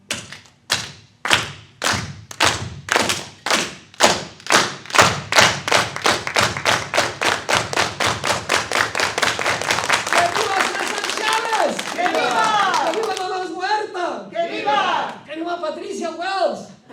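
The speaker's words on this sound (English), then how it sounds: "if you went to some kind of an event, you would hear this applause taking place" Cuban-style rhythmic audience clapping at a music event starts as slow, loud unison claps and speeds up into a rapid continuous patter, ending in cheering voices.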